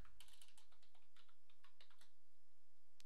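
Rapid typing on a computer keyboard while entering a Blender Python script, a steady run of close, crisp key clicks alone with no talking.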